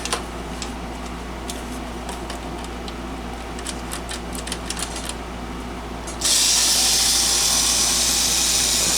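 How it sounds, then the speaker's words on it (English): Screws being worked out of an old Realistic FM-AM flea-market radio on a cluttered workbench: a run of small scratchy clicks and ratchet-like ticks under a steady hum, then a sudden louder broadband hiss takes over near the end. "taking screws out till something comes apart."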